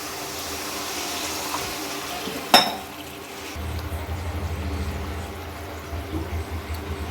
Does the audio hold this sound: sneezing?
no